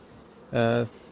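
A honeybee gives a single short, close buzz lasting about a third of a second, rising out of quiet background noise.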